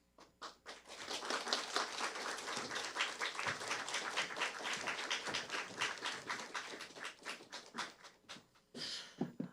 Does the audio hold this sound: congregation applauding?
yes